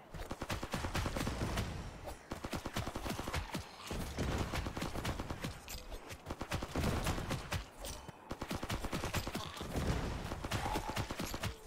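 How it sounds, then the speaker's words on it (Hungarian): Rapid automatic gunfire in the zombie video game FatalZone: Outbreak runs as dense, continuous rattling bursts with brief gaps, steady and prominent throughout. "A lövések viszont nagyon randomok"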